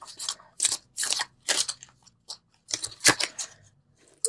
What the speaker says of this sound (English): So let's pull the Universal Love cards.